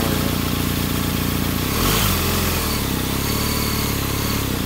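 A BMW R1250GS motorcycle being ridden, its engine drone buried under loud, constant wind roar, with a brief swell in the middle.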